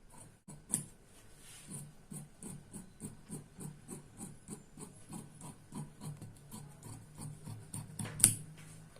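Scissors cut blouse fabric at the shoulder during tailoring, making a close, steady run of rhythmic snipping and rasping strokes, about two or three per second, with a sharper knock near the end.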